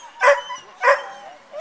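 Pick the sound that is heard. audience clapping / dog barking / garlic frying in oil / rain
dog barking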